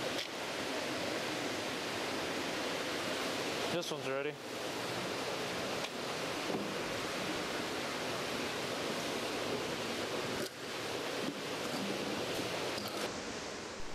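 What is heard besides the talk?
water running through fish hatchery troughs and jars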